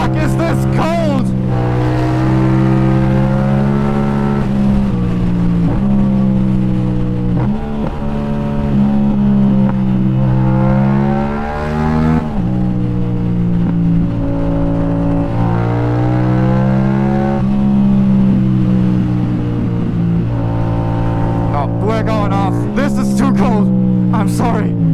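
A car accelerates to full speed on a German autobahn on a cold, wet day, its engine droning loud and steady, pitch climbing through repeated gear changes.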